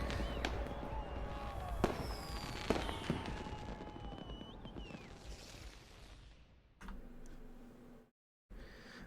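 Fireworks in a music video: a run of sharp bangs and crackles with whistling streaks, loud at first then thinning out, ending in a brief gap and quieter sound.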